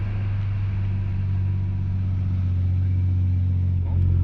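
A Toyota GR Yaris three-cylinder engine heard from inside the cabin with artificially amplified sound, a steady low droning hum at moderate level that rises slightly at the very end.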